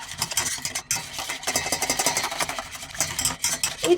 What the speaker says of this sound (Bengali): হ্যান্ড ব্লেন্ডার দিয়ে